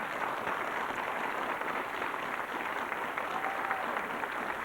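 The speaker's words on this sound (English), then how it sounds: "erupt into a great applause if he gets it right" Studio audience on a television word game show breaks into sustained applause, dense and steady clapping filling the room at moderate distance with no break.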